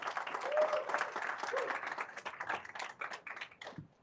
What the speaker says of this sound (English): a quick round of applause for the Intuit team